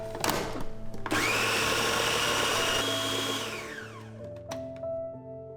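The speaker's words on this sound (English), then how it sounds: "And this time I want to puree it." A blender purees chicken liver pâté with a loud, steady motor whir that starts abruptly, runs for a few seconds, then winds down and stops, with a few clunks at the end.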